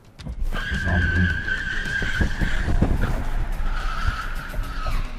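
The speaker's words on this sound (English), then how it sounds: "we're in the Ioniq 5N and we're gonna see how quick it can accelerate." Hyundai Ioniq 5 N electric car accelerating hard, a steady high electric whine with a synthetic tone rising over road and tire roar, heard from inside the cabin for several seconds with no talk.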